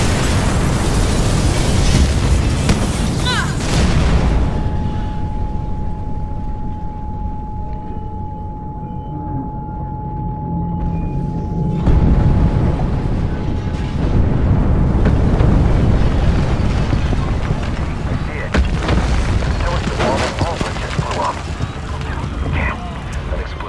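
Big explosion in the video game Mirror's Edge Catalyst, a loud, heavy boom that rumbles and roars for several seconds, drops away, then surges again into a long, dense rumble with crackling debris and a thin steady tone in the middle.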